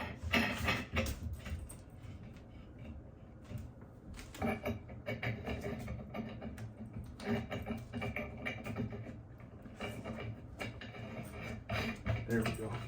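Pipe end caps are twisted by hand onto six-inch threaded nipples, making irregular scraping, creaking thread sounds and small knocks in uneven bursts, fairly close and quiet.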